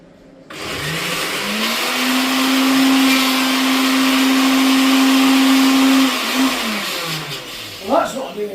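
A blender liquidising hot food, starting abruptly and running as a loud, steady whine with a rising and settling pitch, then winding down and stopping, with brief rattling noises just after.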